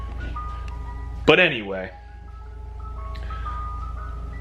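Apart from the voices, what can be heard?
ice cream truck outside a house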